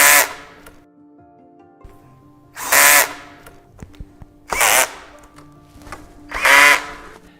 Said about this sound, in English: To avoid having a wobbly desk, make sure that you tighten the screws thoroughly.